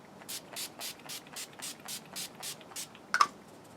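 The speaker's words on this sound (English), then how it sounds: "now I'm going to go ahead and set it with my Urban Decay De-Slick Makeup Setting Spray" Urban Decay De-Slick makeup setting spray misted in a quick series of about ten short, soft hissing pumps at a steady rhythm, close up and fairly quiet, followed by a faint small click.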